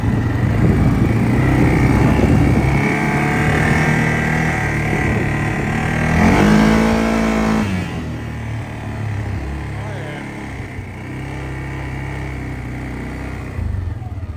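CFMOTO off-road vehicle engine revving in low gear after an RNG clutch kit install, a steady loud drone with one rising rev swell midway before settling back.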